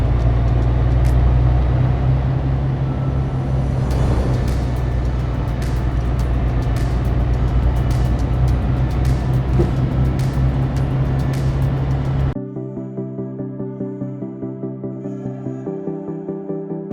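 Iveco S-Way truck engine in Euro Truck Simulator 2, a loud, deep, steady diesel rumble that cuts off abruptly near the end, followed by quieter engine tones.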